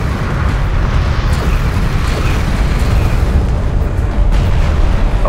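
A turret post blowing up in Homeworld: Deserts of Kharak, a loud, sustained rumbling explosion with booming bursts that rolls on for several seconds, dense and close, with no one talking over it.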